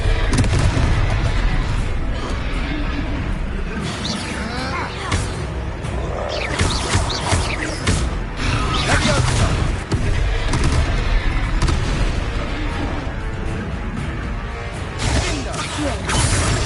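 Explosive Confringo spell blasts in the video game Hogwarts Legacy, repeated booming bursts within a dense, continuous battle din, with voices speaking over the combat.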